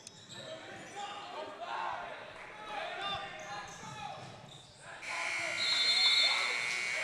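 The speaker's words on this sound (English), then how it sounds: "Pacombe to Guzman at the buzzer, and that will take us to the end of the first half" Crowd noise and a commentator's voice fill an indoor gym at a high school basketball game, then a loud, sustained electronic buzzer blares over the arena din, ending the first half.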